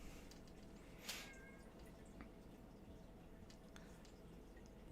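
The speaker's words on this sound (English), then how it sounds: "My cat is being annoyingly loud." A pet cat meows once, in a short rising call partway through, set back from the microphone against a quiet room hum with faint clicks.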